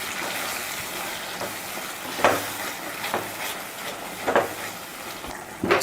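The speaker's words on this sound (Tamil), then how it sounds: "சேர்த்துட்டு அதையும் லைட்டாக அந்த எண்ணெயில் போட்டு நல்லா கலந்து விடுங்க." Ground masala is stirred into hot oil in a pan, a continuous close sizzle punctuated by about five louder stirring scrapes at irregular intervals, with no talk.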